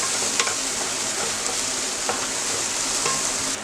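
Onion and finely chopped capsicum frying in a pan, a dense continuous sizzle with a few soft stirring clicks, close and steady with no talking.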